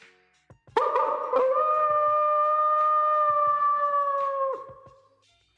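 Hockey fans at an Arizona Coyotes game in Mullett Arena let out a long, sustained coyote-style howl together, a loud wavering tone lasting several seconds before it trails off; voices imitate the animal.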